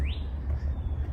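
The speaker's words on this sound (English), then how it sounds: "You think the animals, when they chirp, they're just calling the other animals" A bird on a nature trail gives a thin rising chirp followed by a sustained high whistle, faint and brief over low outdoor rumble.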